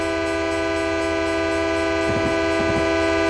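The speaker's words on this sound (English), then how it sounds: "Let's get a nice little pan shot of the train passing." An SD40-2 diesel locomotive in Train Simulator rumbles past loud and steady, engine drone constant throughout, with two short horn blasts near the end.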